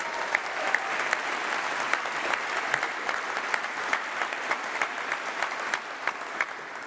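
An audience at a university winter congregation ceremony gives a long, even round of applause for international students, the clapping dense and continuous with a few louder individual claps standing out.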